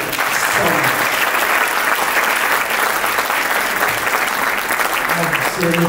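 Banquet guests at a 90th birthday dinner applaud together, a full, continuous wash of clapping that stays even and sustained throughout without dying down.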